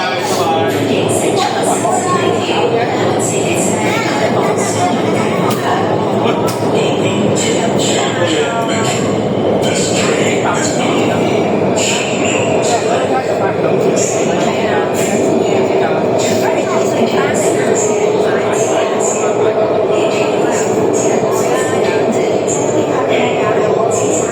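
A Shenzhen Metro train on the Bantian line between Futian Checkpoint and Gangxia North runs with a steady loud roar and rattle for over twenty seconds, with occasional clicks and faint squeals and a voice talking over it.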